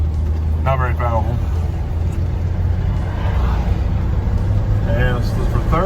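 A 1986 Dodge D150 Royal SE pickup with a freshly rebuilt transmission accelerates and shifts through its gears, giving a steady, loud low engine rumble from inside the cab, with a voice briefly heard over it.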